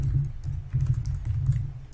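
Code typed on a computer keyboard, a steady run of soft, close key clicks in an uneven rhythm, with no voices.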